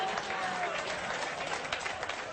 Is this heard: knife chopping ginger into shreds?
no